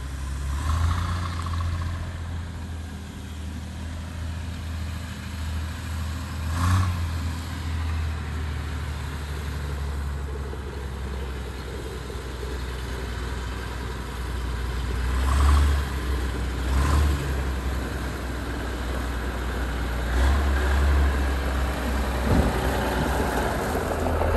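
A truck engine runs and idles steadily for a long stretch, with a few brief revs and louder surges over its low rumble, and no talk.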